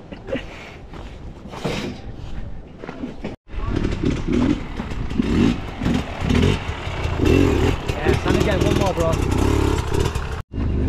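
A Beta 300 RR two-stroke enduro motorcycle engine revs in loud, choppy bursts with clattering mechanical noise, starting after a short gap and running steadily near the microphone while people talk over it.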